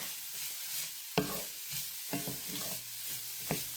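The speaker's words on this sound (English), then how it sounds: "I want to just really make sure all this is nice and browned up" Chicken pot pie filling, with potatoes, browning in a hot pan: a constant sizzle and fry with occasional scrapes and knocks of the stirring spoon, up close and without voices.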